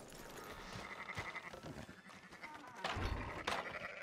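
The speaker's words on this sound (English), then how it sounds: "Fine sheep." Sheep bleat a few times over busy background ambience in Red Dead Redemption 2, with a louder bleat near the end; no talking.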